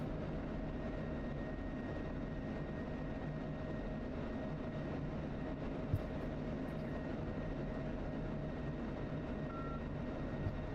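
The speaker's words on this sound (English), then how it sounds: "A10. Yeah, it's incredible. So much fun to fly." An A-10 jet in flight, heard as a steady, unbroken engine drone and broadband roar from inside, constant and moderately loud for the whole stretch with no speech.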